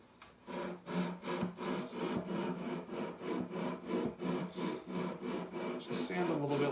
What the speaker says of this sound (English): So now I've got my sanding block, and I have just a 320 grit on there